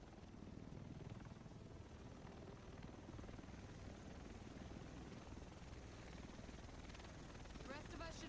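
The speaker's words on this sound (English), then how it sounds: "The rest of us should be in this chopper." A helicopter arrives in the video game The Division, its rotor producing a dense, steady rumbling roar that fills the scene at even loudness throughout, with faint chirps near the end.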